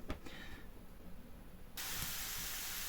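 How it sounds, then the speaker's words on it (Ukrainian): Cabbage dropped into a hot, preheated frying pan, a sudden loud broadband sizzle cutting in partway through after quieter kitchen noise and a few clinks, then holding steady to the end. "відправляю капусту в сковороду і підсмажую трішечки"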